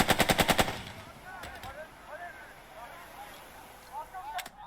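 A machine gun squad fires in the tactical video game Burden of Command: a rapid burst of about seven loud shots up front, then quieter scattered game effects and a few faint distant pops.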